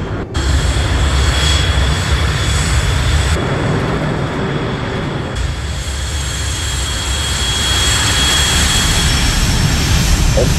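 Jet aircraft roaring steadily during takeoff in Ace Combat Assault Horizon, a loud, continuous engine rumble with high whining tones, shifting midway as the thrust changes.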